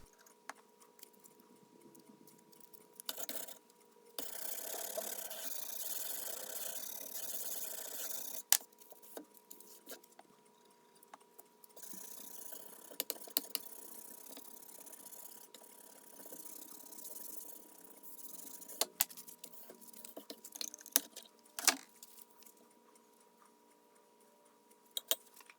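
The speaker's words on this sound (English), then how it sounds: "More wet sanding." Wet sanding by hand on a rusty drywall saw blade during restoration, a steady scratchy rasping in long strokes broken by pauses and sharp clicks, fairly close and moderately loud with no talk.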